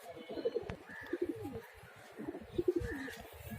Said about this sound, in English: Now I will catch another pigeon.